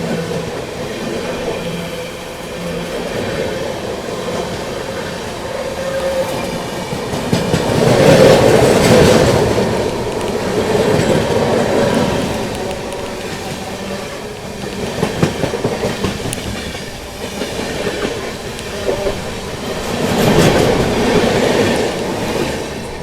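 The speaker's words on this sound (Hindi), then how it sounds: "ये है बनारस नई दिल्ली सुपरफास्ट एक्सप्रेस।" A Banaras–New Delhi Superfast Express train passes close by with a steady rumble and rolling wheel clatter, swelling loudest midway and again near the end, with no voices.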